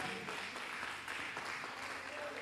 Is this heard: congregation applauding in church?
yes